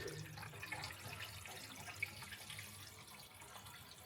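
Water runs steadily from a tap into a newly fitted bathroom basin, a continuous splashing hiss close by with no voices.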